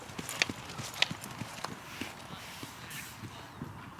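Racehorses walk around a circuit at a racing yard, their hooves clip-clopping in an uneven rhythm of sharp, fairly close strikes over a quiet background.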